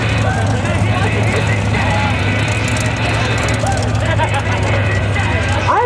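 A 1980 Subaru truck fitted with a 2.5 turbo Subaru engine runs at a mud bog event, a steady, loud engine drone continuing throughout with raspy, high-revving character, while an announcer talks over it.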